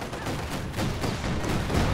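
Dense, muffled small-arms fire rattles continuously at a distance on a World War II battlefield in the strategy game Company of Heroes 2, a fairly faint wash of shots with no clear single bang.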